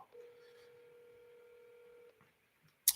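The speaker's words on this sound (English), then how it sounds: "Let me see if he answers the phone." A phone call rings out while waiting for an answer, a single sustained electronic tone lasting about two seconds, followed by a short pause and a sharp click.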